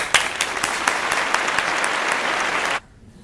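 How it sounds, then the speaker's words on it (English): A classroom group gives a round of applause for someone playing Stalin, with sharp individual claps standing out in a lively burst that stops abruptly into near silence. "I think we should all get a round of applause for Mr."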